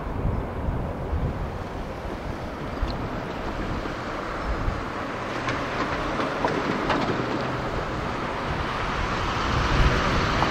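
A CSX manifest freight train rumbles past in snow in a long, steady roar, with wind buffeting the microphone and occasional metallic clanks from the cars.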